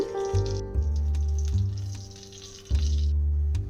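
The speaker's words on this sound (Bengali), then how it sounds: "অবশিষ্ট তেলে দুটো তেজপাতা, দারুচিনি, লং," Bay leaves, cinnamon sticks and cloves fry in oil left over from frying potatoes for a country-chicken curry, a soft steady sizzle sitting under loud tonal background music that pulses in blocks.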